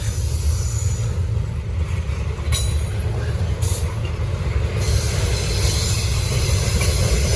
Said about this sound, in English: You know the slowest intermodal train through here? 9 times out of 10, it's this train.